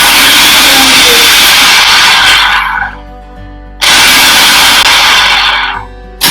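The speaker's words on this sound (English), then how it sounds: "then process it once more" A food processor pulses a potato burger mixture in two loud bursts of whirring, each lasting about three seconds and cutting off sharply, with a short quiet gap between them.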